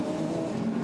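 A DTM race car on a damp Norisring street circuit in practice, heading into the Grundig turn: a brief, fairly faint burst of engine drone, holding steady for under a second.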